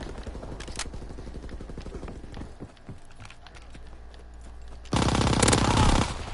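Rapid bursts of M1928 submachine gun fire in a WW2 video game, rattling in quick rhythmic strings, then a louder, denser volley near the end.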